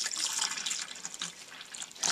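Liquid poured into a camper toilet while winterizing, a steady close splashing trickle that runs the whole time with a brighter gush near the end.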